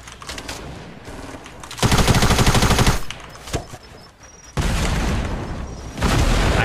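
Automatic weapon gunfire in Fortnite comes in loud sustained bursts, separated by brief quieter gaps with scattered single shots.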